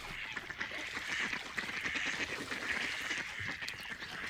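Faint quacking of ducks comes from some distance over a continuous outdoor hiss, with scattered calls and no talking.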